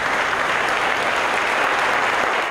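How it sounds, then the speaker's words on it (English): Lengthy, dense applause from senators filling a state Senate chamber in Albany, a loud, even wash of many hands clapping that holds steady from start to finish, with no speech. "After a lengthy applause"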